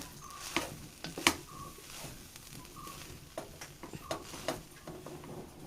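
Mackerel fish curry stirred in a pan as its water cooks off, with faint scraping strokes and a low simmering sizzle, quiet and close.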